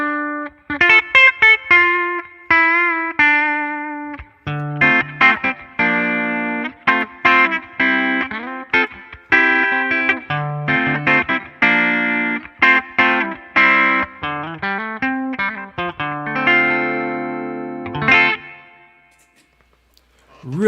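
A clean Yamaha electric guitar is fingerpicked in a flowing run of plucked notes and chords, bright and slightly shimmering, ending on a fading held note.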